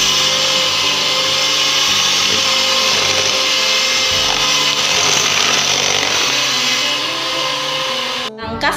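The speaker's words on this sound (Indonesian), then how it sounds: "Semua bahan kita mixer terlebih dahulu." Electric mixer blending chicken bakso meatball ingredients, a loud, steady motor whir running continuously before cutting off abruptly near the end, with nothing else heard over it.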